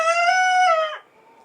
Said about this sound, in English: That was our new rooster.